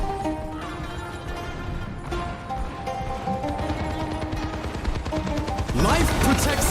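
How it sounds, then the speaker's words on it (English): A rocket barrage ultimate fires in a video game, a dense, loud stream of rapid blasts and explosions building to a harsh burst at the end, with voices faintly underneath. "Rocket barrage incoming."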